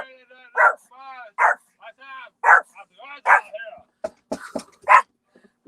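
A puppy barks and yips in short bursts close by, mixed with people talking around it.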